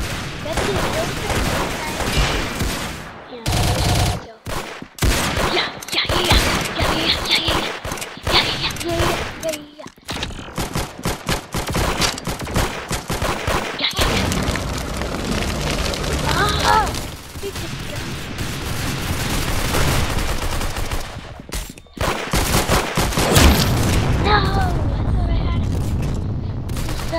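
Rapid bursts of gunfire and explosions from a Roblox shooting video game pound almost continuously, loud and dense, with brief gaps between volleys.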